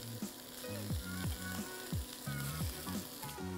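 Chashu pork sizzles steadily in a frying pan, a bright continuous crackle close by, with a low repeating hum and occasional short tonal blips layered beneath.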